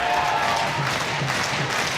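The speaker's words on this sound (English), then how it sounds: "Crowd are trying to clap the Steelers home to victory here in pre-season" Ice hockey crowd clapping at a Sheffield Steelers pre-season game against Södertälje SK, a broad arena wash of applause and crowd noise, with rhythmic clapping faintly pulsing through the steady roar.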